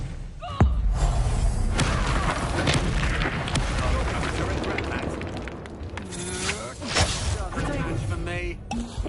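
Expelliarmus spell cast during combat in the Hogwarts Legacy video game: sharp magical bursts, thumps and booming impacts in a busy battle mix, with voices talking throughout.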